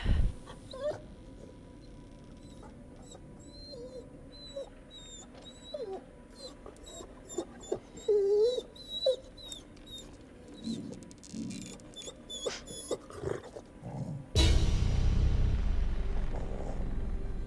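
A dog in the horror video game The Devil in Me whimpers and whines in high, wavering cries that come and go over a quiet background, and a sudden burst of louder low rumbling noise arrives near the end.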